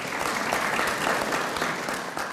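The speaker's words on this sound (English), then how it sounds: "you owe yourself a great round of applause" An audience at a Holocaust resource center opening ceremony in Queens applauds steadily, a dense, even wash of many hands clapping throughout.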